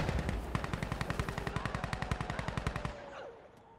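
Rapid automatic gunfire in Insurgency Sandstorm hammers out a long, even burst of some thirty closely spaced shots, fairly near, then cuts off and leaves a brief fading tail with no talking.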